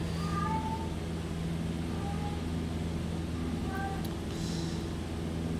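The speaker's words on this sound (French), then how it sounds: "Désolé pour le chat, derrière en arrière-plan" A cat meows a few times, short faint calls set back from the microphone over a steady low engine drone from a Scotland tour simulator game.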